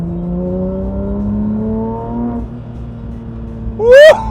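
Engine of a Porsche GT3 heard from inside while driving, a steady rising drone that climbs gradually in pitch, then briefly drops and surges into a higher, louder burst near the end. No one talks.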